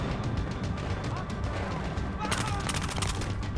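Gunfire in Battlefield Hardline, a rapid burst of repeated shots with a denser volley toward the end, under a faint voice.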